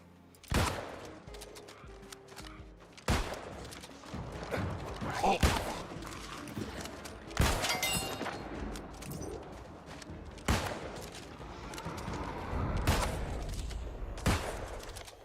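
Musket shots in the fantasy MMO New World, about eight loud, sharp reports spaced a second or two apart over battle clatter and mechanical creaks, fairly close.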